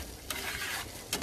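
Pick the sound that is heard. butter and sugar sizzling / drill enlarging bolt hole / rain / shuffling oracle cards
butter and sugar sizzling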